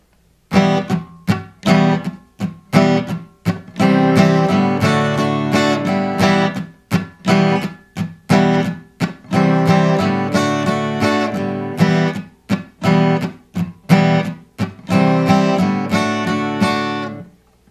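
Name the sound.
guitar strumming a song's rhythm with muted up-down strokes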